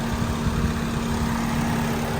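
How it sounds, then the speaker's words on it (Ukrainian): An Opel Zafira engine idles smoothly and steadily with a low, even hum and no other sounds. "Мотор працює тихо рівно не троїть"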